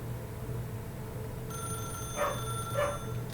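A telephone starts ringing partway through in The Stanley Parable video game, a faint electronic ring with two pulsing bursts over a low background hum.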